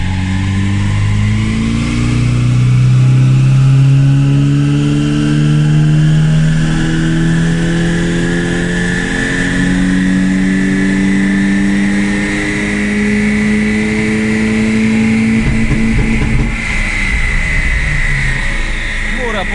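A Saab car engine revs steadily and loudly on a dynamometer, its pitch rising and falling through long sustained sweeps, with a constant mechanical drone close by.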